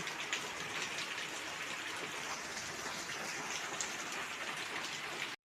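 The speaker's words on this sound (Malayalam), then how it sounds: "പുറത്ത് നല്ല മഴ പെയ്യാണ് കേട്ടോ" Steady rain falls outside, a soft, even hiss of drops with no voices, continuing unbroken until it cuts off.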